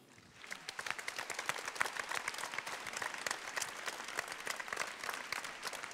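Applause breaks out from a gathered audience, quickly swelling to a steady, dense patter of many hands clapping that continues at fairly even level, with no voices over it.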